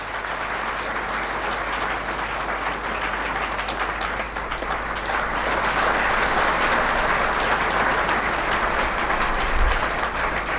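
Loud, sustained applause from a seminar audience welcoming a guest at a youth dialogue event in Begusarai, Bihar, a dense wash of clapping that holds steady and swells slightly toward the end.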